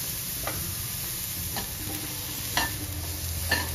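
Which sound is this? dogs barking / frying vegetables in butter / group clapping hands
frying vegetables in butter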